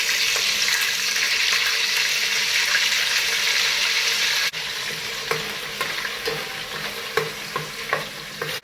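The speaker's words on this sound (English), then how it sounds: "we are frying the onion paste." Onion paste made from three medium onions sizzles and frizzles steadily in a hot pan, with occasional stirring knocks and scrapes, close and continuous with no talking.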